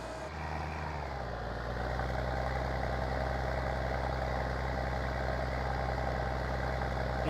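A tractor engine idling in Farming Simulator 19, a steady, loud, low-pitched drone that holds unchanged from start to finish with a faint high whine above it and no talking.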